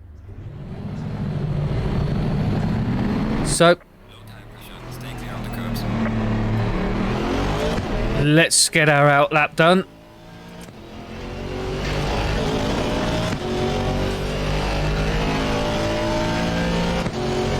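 Aston Martin V8 race car engine in a sim racing game, loud and sustained with revving and gear changes across the lap, a brief cut near four seconds and choppy shifts around nine; someone talks briefly over it.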